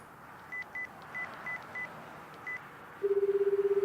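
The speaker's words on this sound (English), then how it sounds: "She brought out her phone address book and called the number recorded under the name Nana-chan" Phone number dialed in the ChäoS;HEAd visual novel: a run of short keypad beeps spaced about half a second apart, then a steady rapid pulsing tone that seems to be the line ringing or connecting, with no voices.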